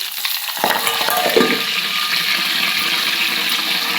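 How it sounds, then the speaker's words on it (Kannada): A leaf crackles and sizzles steadily in hot ghee as it finishes cooking, with a brief clatter at the start before the frying hiss settles into a continuous, fairly loud sizzle. "ಆ ಥರ ಸೌಂಡ್ ಬರ್ತಂದ್ರೆ ತುಪ್ಪ ರೆಡಿ ಆಗತ್ತೆ ತಿಳ್ಕೊಬೇಕು ನೋಡ್ರಿ."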